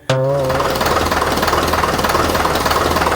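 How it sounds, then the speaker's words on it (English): A newly fitted London bus engine starts with a sharp burst in a workshop, then settles into a loud, steady, rumbling idle with rhythmic knocking. "The bus is running, the new engine's in."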